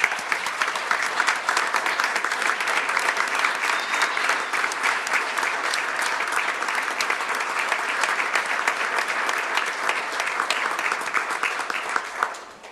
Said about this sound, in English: I'd like to give a round of applause for you for your 12 years of service here.